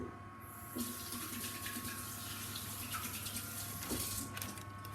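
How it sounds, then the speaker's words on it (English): Hands being washed under a running kitchen tap during home baking, a steady broadband rush of water lasting throughout with brief splashes and shifts as the hands move in the stream. "let me just wash my hands"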